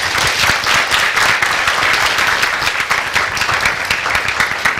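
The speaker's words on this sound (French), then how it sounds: "Applaudissements." A studio audience on a television show claps steadily for about five seconds, a dense, loud patter of many hands with no voices over it.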